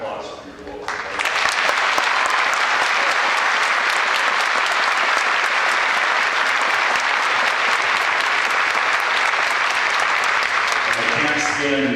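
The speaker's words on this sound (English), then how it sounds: "I need a round of applause for your local folks." A large town hall crowd in a high school stadium bursts into loud, sustained applause for local emergency responders after a wildfire, swelling within the first second and holding thick and even before starting to fade at the end.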